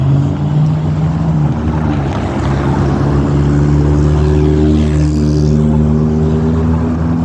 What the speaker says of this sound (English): fix your fucking exhaust